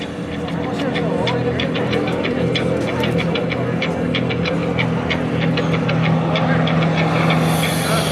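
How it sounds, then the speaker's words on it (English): A Jeep Trackhawk and a Corsair airplane race at an airshow, heard as a loud, continuous engine roar and throb that holds steady throughout, with a voice speaking over it. "we've got a race between the Corsair and the Trackhawk"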